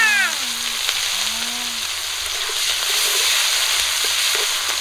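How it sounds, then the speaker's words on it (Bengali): Five-spice seeds, chopped onion and ripe green chillies crackle and sizzle loudly in hot mustard oil left from frying fish, a constant close frying hiss with no talk. "গরম তেলে দিয়ে দিচ্ছি 5 ফোড়ন, পেঁয়াজ কুচি আর কয়েকটা পাকা কাঁচা লঙ্কা।"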